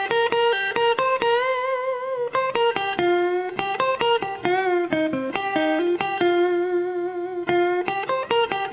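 Electric guitar section from a cover, a continuous three-bar passage of sustained, slightly driven single notes with bends and vibrato, played alone and prominent.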